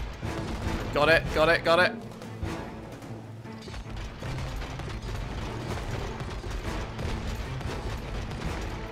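Weapon fire in the It Takes Two video game, a burst of rapid mechanical rattling shots near the start, followed by continued clattering game sounds under brief talk from a player.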